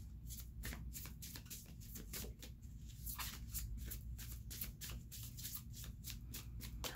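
Tarot cards riffle and slap in a steady run of quick shuffling bursts for several seconds, close and moderately loud, with no voices over them.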